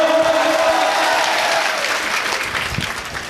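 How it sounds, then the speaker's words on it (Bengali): Loud crowd applause at a political rally, dense clapping with some cheering and voices under it, sustained through the moment. "জোরে হাততালি হোক"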